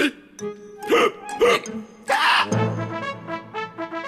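A cartoon character's loud, close hiccups come in a quick irregular series, several sharp vocal bursts with voiced tones between them and no ordinary speech.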